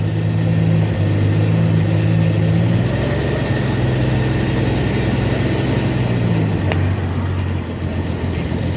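A 1966 Dodge Dart GT barn find, left sitting since 1985, drives with its exhaust close by. A loud, steady engine drone fills the cabin, with its pitch shifting slightly as the revs change.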